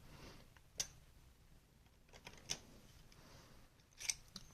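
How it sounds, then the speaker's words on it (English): Scissors cutting open the plastic packaging of diodes: three sharp, faint snips spaced a couple of seconds apart, heard close against a quiet room with no talk. "Guess I just gotta cut this open."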